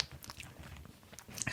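Someone bites into the sweet, crunchy topping of a lemon pudding, producing a few close, crisp crunches and chewing sounds with no talk.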